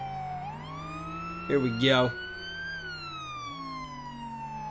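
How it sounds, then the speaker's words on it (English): Wailing police sirens in a police video game, a loud continuous sweeping tone rising and falling, briefly joined by a short burst of other voices or a second sound, with a brief spoken phrase over it. "I'm really hoping the sirens aren't too loud."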